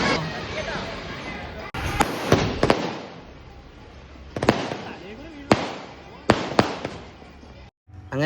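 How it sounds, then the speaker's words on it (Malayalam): Festival fireworks and firecrackers go off in a crowd: several sharp, loud bangs and cracks burst out at irregular intervals, each trailing off, over a steady murmur of people. "അങ്ങനെ വെടിക്കെട്ടൊക്കെ കഴിഞ്ഞതിന് ശേഷം"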